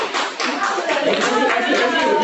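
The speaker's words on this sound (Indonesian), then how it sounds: "Baik, tepuk tangan." Classroom of students clapping hands together at a microteaching session, a quick burst of brisk, fairly close clapping that continues steadily to the end.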